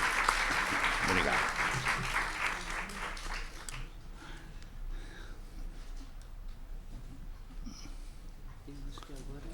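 Audience at a literature lecture on Antigone breaks into warm clapping that fills the first few seconds, then thins out and fades while someone briefly speaks.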